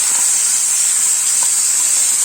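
Onion paste hits hot oil in a pan for a rohu fish and potato curry, producing a loud, steady, close hiss of sizzling that holds without a break and has no talking over it.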